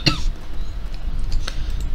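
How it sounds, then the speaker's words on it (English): A single short cough from someone with a cold and a sick voice, close and loud, over a steady background hum. "you're gonna be hearing me cough quite a bit"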